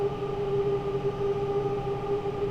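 A London Underground Bakerloo Line train in Train Simulator 2020 rumbles steadily near Euston with a sustained droning hum, loud and continuous and without talk.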